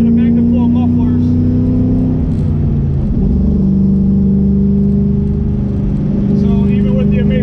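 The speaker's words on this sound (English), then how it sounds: "all that sound comes through a MagnaFlow, a set of MagnaFlow mufflers" A Kenny Brown built 2005 Ford Mustang GT with long tube headers, a straight X-pipe with no cats and MagnaFlow mufflers, a loud deep engine drone that dips and swells through the gears while someone talks over it.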